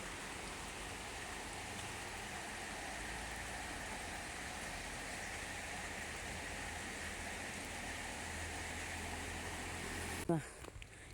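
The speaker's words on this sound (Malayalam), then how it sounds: "നല്ല റോഡെല്ലാം ഞാൻ കാണുന്നില്ല നനഞ്ഞിട്ട് നല്ല മഴയാണ്" Heavy rain pouring steadily at an Eid family gathering, a constant wash of hiss and patter heard faintly and evenly until a sudden thump and cutoff near the end.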